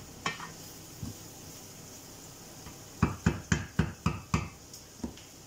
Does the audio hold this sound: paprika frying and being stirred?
yes